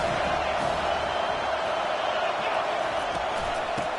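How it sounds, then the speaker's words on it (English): A college football video game stadium crowd roars in a dense, steady wall of noise on third down, holding loud throughout with faint thumps beneath. "Decibels rising as the crowd gets behind this defense on 3rd down."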